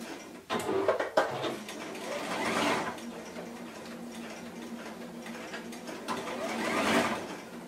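A sewing machine runs a zigzag stitch over elastic on a garment, giving close, continuous mechanical clattering and whirring in a few sustained bursts with no talking.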